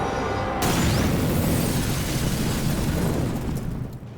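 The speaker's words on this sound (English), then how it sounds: "They think it's a hand grenade." A hand grenade goes off with a sudden loud blast that becomes a long, roaring, rumbling wash of sound and slowly fades over several seconds, with no voices.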